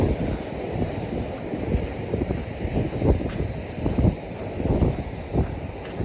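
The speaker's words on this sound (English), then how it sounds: "that wind's about to take me down" Strong gusting wind buffets the microphone at a Florida state park in Palm Coast, a continuous loud roar with rising and falling gusts and no talk.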